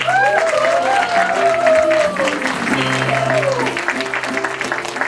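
Theater audience of around three thousand people applauding, a dense sustained wash of clapping with a voice speaking over it through a microphone.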